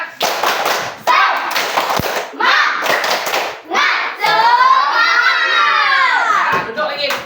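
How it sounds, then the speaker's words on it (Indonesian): Children clap together in a rhythmic group spirit clap, bursts of sharp claps mixed with young voices shouting and chanting loudly in a room, ending in a sustained cheer. "Semuanya tepuk semangat."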